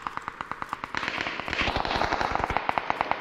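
Rapid automatic gunfire in the battle royale game PUBG on the Erangel map, a loud, dense string of sharp cracks that grows heavier midway and keeps a steady, fast rhythm throughout.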